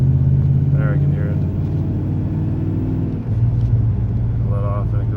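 A 2003 Ram Hemi pickup fitted with a Taylor Helix throttle body spacer, its engine rumbling at steady idle and mild throttle, a low continuous drone close by while someone talks over it.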